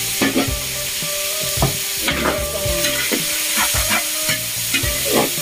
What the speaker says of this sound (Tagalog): Gisa-gisa lang siya after ilang minutes.